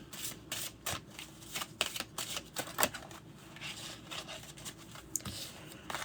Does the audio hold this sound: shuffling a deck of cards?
yes